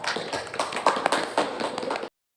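Short burst of clapping from a small group welcoming a guest on a school podcast, close and uneven, ending abruptly after about two seconds.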